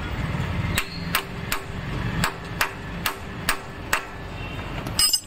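Steady metal hammer blows lock the sprocket nut on a Royal Enfield Bullet during a chain sprocket change, about eight sharp close taps at a fairly even rhythm, with no talking.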